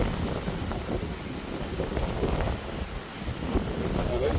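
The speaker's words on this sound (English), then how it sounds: "There's a storm brewing. It's supposed to be hurricane force wind." Strong storm wind gusting at hurricane force, a steady broadband rush buffeting the microphone throughout with rumbling low-end surges and no clear pauses.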